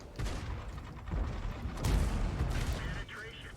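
Tank guns firing in World of Tanks, a run of heavy booming shots and rumbling explosions layered with battle noise, with a voice talking over the action.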